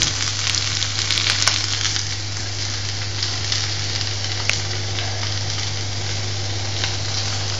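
Paella rice toasting and sizzling on the bottom of the pan to form a crust, a continuous close hiss of frying with faint crackles and an occasional light tap, over a steady low hum.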